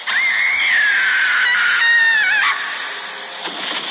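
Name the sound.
woman screaming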